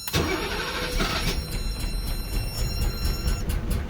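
A BMW 633 CSI shark-nose coupe under restoration cranks and fires: a brief starter whir quickly catches into a loud, rough, steady engine run, close and without talk.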